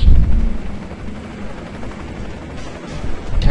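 Helicopter in the video game Ghost Recon Advanced Warfighter, a steady low rotor rumble that is loudest at the start, dips slightly in the middle and swells again toward the end, with no voices.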